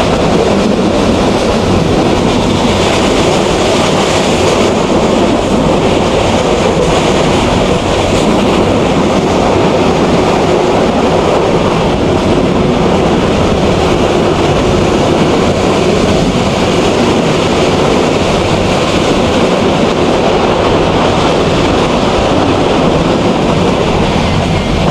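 Paharika Express passenger train travelling between Sylhet and Chittagong, a loud continuous rumble and rattle heard from on board, steady throughout with no pauses and no talk.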